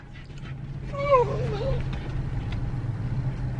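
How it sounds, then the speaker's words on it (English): A dog whimpers for food with a single drawn-out, wavering whine that rises and falls for under a second, set against a steady low hum. "The dog probably smells it and wants some."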